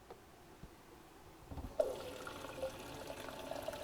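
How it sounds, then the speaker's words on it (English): Running water from a tap poured into a cup in a home kitchen, starting faintly then rising to a steady splashing stream in the second half, with no talking. "I'm going to get a little water."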